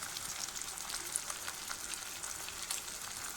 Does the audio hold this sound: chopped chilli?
yes